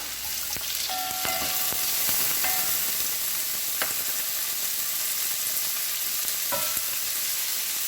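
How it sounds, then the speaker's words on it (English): Tomatoes hitting dal in a pan over a medium gas flame: a loud, close, steady sizzle with scattered crackles and a few utensil clinks, no talk. "And in my dal, I'm going to put the tomatoes now."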